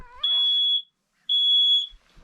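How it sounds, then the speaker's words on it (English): A carbon monoxide alarm gives two loud, piercing electronic beeps, each about half a second long with a short gap between, close by in a quiet lodge room. "There goes the carbon monoxide alarm."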